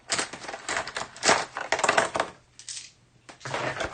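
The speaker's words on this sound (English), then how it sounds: "I'm going to roll a d10." Dice, including a ten-sided die, tumble across a table during a Kingdom Death Monster board game, making several bursts of sharp rattling clicks with brief quiet gaps between throws, near and crisp.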